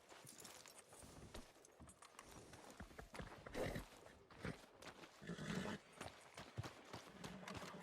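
Horse hooves clip-clop in Red Dead Redemption 2 as a quiet, irregular run of hoof taps with a faint jangle of tack and ambient street noise, while people talk.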